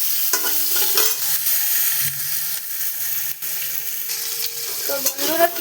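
Onion pieces sizzle in hot oil in a pan with bay leaf, garam masala and cumin, under a steady frying hiss, while a spatula scrapes and stirs in repeated short strokes close to the microphone, without talk.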